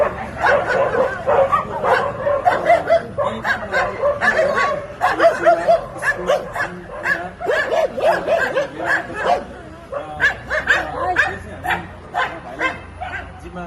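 A dog yips and barks repeatedly at close range, with whimpers mixed in, while people talk nearby.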